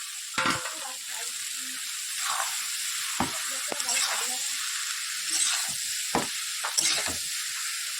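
Washed bottle gourd cooking in a pan with turmeric, salt and a little chili powder: a loud, continuous close sizzle and hiss, broken by sharp clinks and scrapes of stirring.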